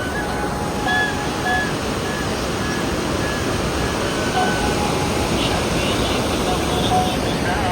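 River water rushing near a bridge by a temple, a steady, broad roar of flowing current with no break, fairly loud and close, with faint tonal hints in the background.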